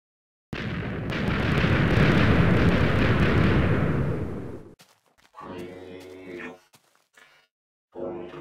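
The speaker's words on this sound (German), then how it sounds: "Als erstes wird gerade hier das Riesenloch gesprengt." A huge hole is blasted open by an explosion in a video game: a loud, rumbling blast that swells and roars for several seconds before fading, followed by softer game sounds.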